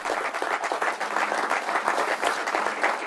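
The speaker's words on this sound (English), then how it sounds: "You can applaud that." Steady applause from an audience at a building fundraising announcement, many hands clapping in a dense, even patter that holds throughout without talk.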